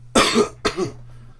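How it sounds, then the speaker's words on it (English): Two short, raspy coughs close by, the second slightly weaker, followed by a faint steady hum and quiet room tone. "coughs a little bit."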